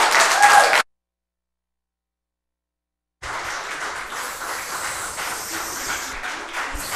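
Audience applause at a city council meeting: a short burst of clapping, then a gap of near silence before a longer stretch of steady, moderately loud clapping from the room.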